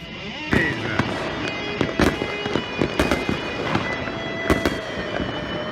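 Aerial fireworks bursting on New Year's Eve in Honolulu, a series of sharp loud cracks and booms at irregular intervals over a constant background crackle and hiss.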